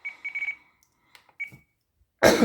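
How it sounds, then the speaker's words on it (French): A radio transmitter's low-battery alarm beeps a short electronic tone in a quick series of pulses, then one more after a pause, before a loud burst of rustling handling noise. "l'alarme de batterie basse"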